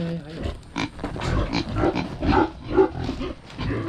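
Pigs in a pen grunting and squealing in a steady run of close, rough snorts over about four seconds, with no talk over them.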